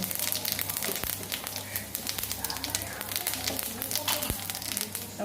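Dried red chillies, cumin and panch phoron sizzle in hot oil, giving a dense, crackling hiss with sharp pops scattered throughout, close and continuous.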